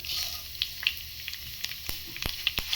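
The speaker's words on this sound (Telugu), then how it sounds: "ఇప్పుడు కొద్దిగా ఆవాలు కూడా వేసుకుందాం." Fenugreek, mustard and cumin seeds sizzling in hot oil for a urad dal and dried red chilli chutney, a steady frying hiss broken by sharp, scattered pops and crackles close by.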